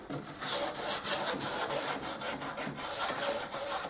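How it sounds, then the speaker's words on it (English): Bunched sandpaper rubbed by hand over the contours of wooden kitchen cabinets, a steady close scratchy rasp in quick repeated back-and-forth strokes with no talking. "just bunch it up and put it right in there and just sand it"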